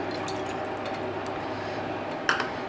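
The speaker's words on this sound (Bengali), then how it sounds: "এখানে আমি 2 কাপ জল দিলাম।" Two cups of water poured from a measuring cup for Chushi Puli Pitha dough, a soft continuous splashing and trickling close by, with a brief brighter splash near the end.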